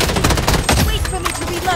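Loud video game gunfire rattles in rapid bursts, dense and close, with music and game voices mixed underneath.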